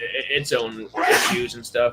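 A sharp, sudden sneeze bursts out in the middle of casual conversational talk, loud and close, with speech before and after it.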